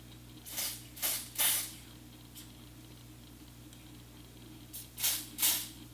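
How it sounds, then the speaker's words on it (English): Dior Airflash spray foundation sprayed onto the back of a hand, three quick close hissing bursts, a pause with faint background hum, then two more bursts. "I sprayed on the back of my hand."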